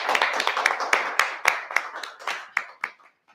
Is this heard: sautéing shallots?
no